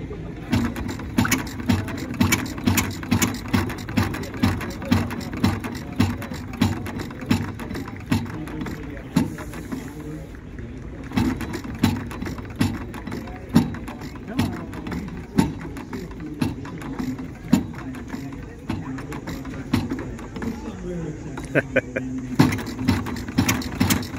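A replica of Henry Ford's 1893 kitchen sink engine fires and runs after a flooded start, giving a steady rhythmic chugging of close, regular exhaust pulses that carries on for the whole stretch.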